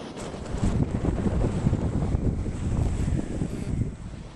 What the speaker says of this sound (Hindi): आईएमडी के मुताबिक तेज हवाओं के साथ भारी बारिश जारी रहेगी